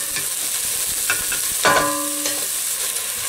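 Chopped onions sizzle in hot oil in a pot for a sweet potato and chickpea curry, with a steady frying hiss and a few scraping stirs of a spoon partway through; no one speaks.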